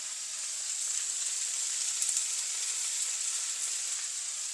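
Vegetables including brinjal, drumstick and potato sautéing in a pan for a spicy gravy, giving a steady, bright sizzle that holds evenly throughout, fairly quiet and close.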